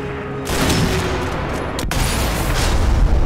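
A burst of sniper rifle gunfire in Sniper Elite V2 Remastered, a loud sustained blast of shots with a brief sharp break partway through and no talking.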